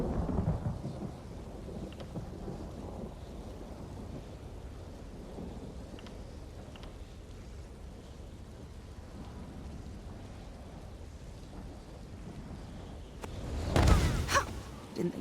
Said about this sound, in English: But the storm's clearing.